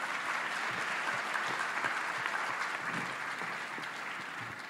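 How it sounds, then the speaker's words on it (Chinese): An audience applauds at the grand final of a Malaysian university Chinese-language debate tournament, a steady, even clapping from the hall that holds at moderate loudness throughout and fades slightly at the end. "我想要给马大掌声这个部分"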